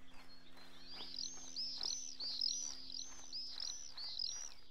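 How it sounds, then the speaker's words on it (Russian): Birds in the video game Cradle chirp and tweet in a steady, fairly loud stream of high calls, with swallows flying over a steppe, set against a soft constant hum. "Ласточки летают, птички поют."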